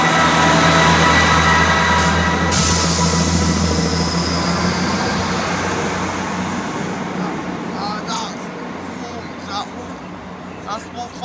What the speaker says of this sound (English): 158740 on the 1440 Scotland service from Edinburgh Waverley to Perth.